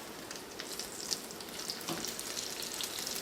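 Bacon frying in a pan, a dense continuous sizzle with scattered pops and crackles, close and steady for a few seconds with no talking.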